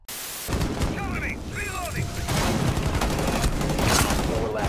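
Rainbow Six Siege match with dense gunfire and booming blasts from a breaching charge, loud and continuous, with a voice talking over the noise.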